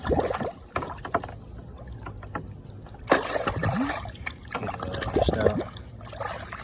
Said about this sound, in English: I'm gonna put some fresh water in here.